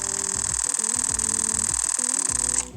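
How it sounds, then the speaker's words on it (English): Rapid RAW burst from a Canon PowerShot G7X Mark III compact camera, a continuous close train of quick shutter clicks over a constant electronic whine that cuts off shortly before the end. "You can take also your photos in RAW, up to 55 photos, using the correct memory card, and that sounds like this."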